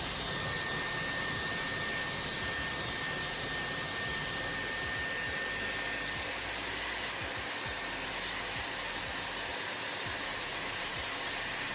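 A Dyson Airwrap hair styler blows air through long hair, a loud, steady high-pitched whoosh and motor whine that holds constant throughout with no voices.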